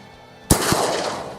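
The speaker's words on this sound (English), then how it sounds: "Okay, another 50-yard shot." A 12 gauge shotgun fires once at a 50-yard target outdoors, a single loud sharp blast followed by a long rolling echo that fades away.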